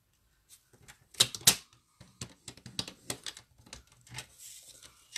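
Cardstock being scored at the 5.4 mark on the second side after being turned around, heard as a close series of sharp taps and clicks, with two louder snaps near the start.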